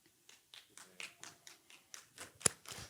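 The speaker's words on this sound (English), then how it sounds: "Yeah, come on, clap with her." An audience claps along in a steady rhythm of roughly ten distinct claps, fairly quiet and at a distance, with one sharper, louder clap near the end.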